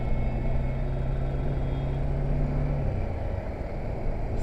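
A Bajaj Dominar 400 motorcycle on a test ride gives a low, steady engine rumble mixed with road and wind noise, holding a constant pitch before easing slightly, with no talk.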